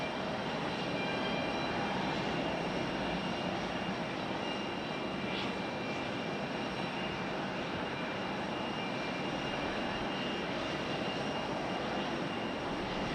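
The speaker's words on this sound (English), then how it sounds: "United E175 on the runway here" A United Embraer E175 jet airliner rolls along the runway at Raleigh-Durham airport, a steady broad engine roar that holds at even loudness throughout, distant and continuous, with no voices.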